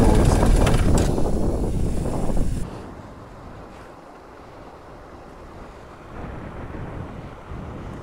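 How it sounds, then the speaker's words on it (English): Wind buffeting a microphone outdoors beside a parked BMW 1250 GS, loud rumbling gusts for the first few seconds, then a softer steady rush that swells again near the end. "Bit of wind just adds to the adventure of it all."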